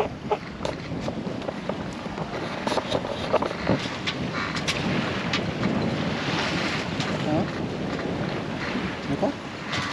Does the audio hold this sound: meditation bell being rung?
no